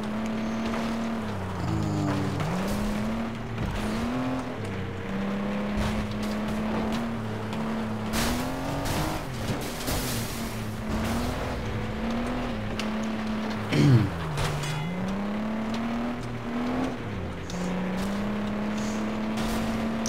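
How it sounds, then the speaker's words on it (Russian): A race car engine in the video game FlatOut 2 drones steadily, its pitch rising and dipping as the car slides through corners, with a brief rough burst partway through and no talk over it. "Да, машина очень сильно заносит"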